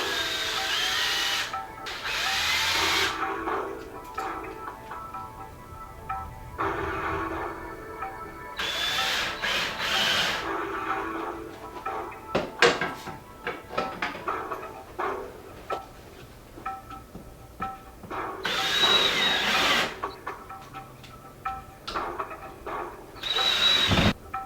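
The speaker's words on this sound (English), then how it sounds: "you're always going to want to pre-drill the holes to make sure that the lags go in smoother" A power drill pre-drilling holes in a wall for lag bolts to mount a flat-screen TV wall mount, with several whirring bursts of varying length broken by pauses and small handling clatter, close and moderately loud.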